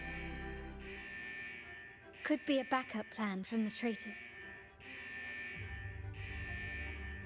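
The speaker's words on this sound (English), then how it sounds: "Is that the central alarm of the vault?" In a video game, a vault's central alarm sounds as a steady electronic buzzing tone, pausing and resuming, with a voice speaking over the middle stretch.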